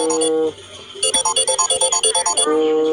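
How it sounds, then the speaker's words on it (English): Samsung Galaxy S8 phone alarm tone rings loud and clear: a sustained melodic chime, a brief dip, then a run of rapid pulsing beeps before the steady tone returns. "I can change the alarm sound on the Samsung Galaxy S8"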